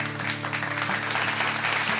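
Applause from the audience welcoming the top three contestants at the Slurrp Great Indian Cookout Season 4.0 grand finale in Mumbai: sustained, lively clapping over steady background music, with no speech.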